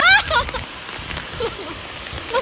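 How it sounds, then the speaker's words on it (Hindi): Rain patters steadily on a surface close by, with voices speaking intermittently over it. "बाहर हो रही है बारिश"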